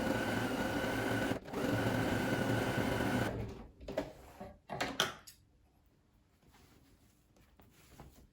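A sewing machine stitches elastic onto homemade leggings with a zigzag stitch, running loud and steady for about three seconds, then breaking into short bursts and stops before falling quiet.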